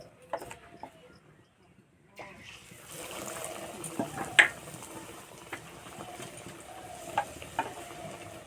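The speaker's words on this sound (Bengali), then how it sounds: "বাকিগুলো একইভাবে ভেজে নেব।" Cauliflower fritters fry in a pan with a soft, steady sizzle that rises after a quiet opening, broken by a few scattered pops and light clinks.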